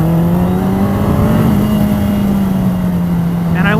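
Motorcycle ridden on a track, its engine holding a steady loud tone that swells slightly and then settles, with wind noise and someone talking over it throughout.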